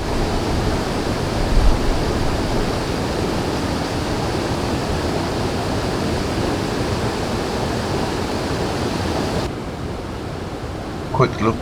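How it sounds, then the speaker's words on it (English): A stream pours down a change in elevation beside the I & M Canal at the Lemont Quarries, a close, steady broadband rush of flowing water that shifts slightly near the end as a voice briefly speaks. "There's like a stream flowing down here."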